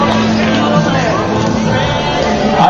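Crowd applauding the second-place team, RSM Hodonín, at a 2010 awards ceremony, a steady dense wash of clapping and cheering with a voice speaking over it.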